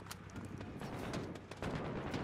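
Rapid gunfire in the video game Modern Warfare, a quick string of sharp repeated shots heard at moderate level over a busy game background.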